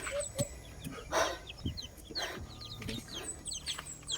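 Chickens cluck and squawk nearby while being fed, amid scattered chirps and rustling, a busy, continuous stream of fowl sounds with no talking.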